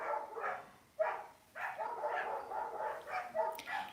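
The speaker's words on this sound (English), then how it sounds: "There's a dog barking behind me." A dog barks in repeated short bursts somewhere behind the listener, fairly clear and moderately close, with a few yips between barks and no speech over it.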